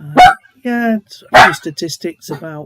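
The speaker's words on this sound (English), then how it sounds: "I might just wait while he's barking" A pet dog named Buster barks a few times indoors, the sharp yaps breaking in between stretches of someone talking close to the microphone.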